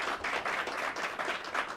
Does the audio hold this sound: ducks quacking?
no